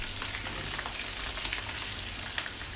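Spices for a tadka sizzle and crackle steadily in very hot oil, a dense, continuous frying hiss with occasional pops, close by and without voices.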